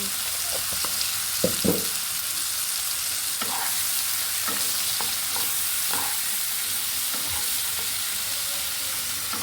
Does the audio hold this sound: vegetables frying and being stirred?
yes